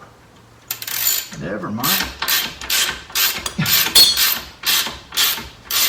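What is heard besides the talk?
loosening a bolt on a 2013 Toyota Avalon's lower control arm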